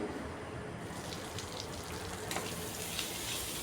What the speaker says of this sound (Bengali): সব মশলা দিয়ে বাটা মশলাটাকে খুব ভালো করে কষিয়ে নিচ্ছি।